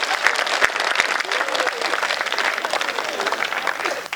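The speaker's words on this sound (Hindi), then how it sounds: "ये एक बार दोनों हाथ ऊपर उठा के तालियां बजाओ।" Audience clapping at a Hindi comedy poetry show, a loud, dense burst of many hands applauding with a few sharp individual claps standing out, sustained for several seconds with crowd murmur mixed in.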